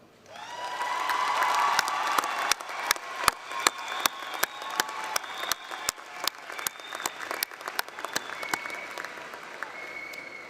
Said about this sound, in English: Graduates, join me in a round of applause for everyone who got you to this point.